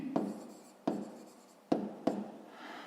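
A pen scratches out a fifth-grade math solution on paper in four short, separate strokes, soft and close-up, with no voices.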